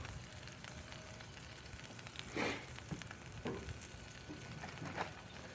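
Generic olive oil sizzles in a cast iron pan for a chicken broccoli stir fry, a steady moderate crackle with a few louder spits and scrapes near the middle and end.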